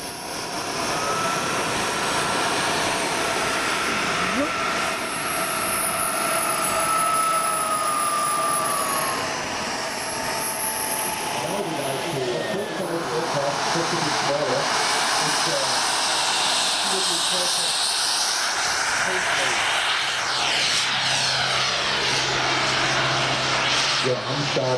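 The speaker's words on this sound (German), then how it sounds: "fliegt für Russjet AF morgens mit einer Yak-130" A Yak-130 jet flies at the JetPower 2011 event with a loud, continuous turbine roar and whine that shifts in pitch as it passes. Voices talk over the engine.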